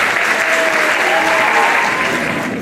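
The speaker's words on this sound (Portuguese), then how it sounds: "também um agradecimento e uma salva de palmas" Steady, dense applause from an audience at a school excellence awards evening in Mação, honouring technical and operational assistants; loud and sustained throughout with no speech.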